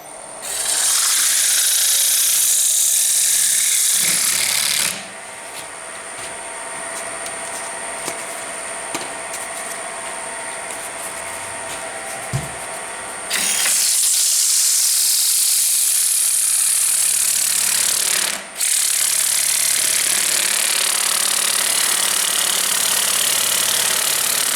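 Close, loud scratchy rasping of sandpaper on a wooden bowl in long strokes, pausing for several seconds before the rubbing resumes.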